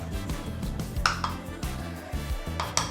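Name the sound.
cooking pan being set down on the counter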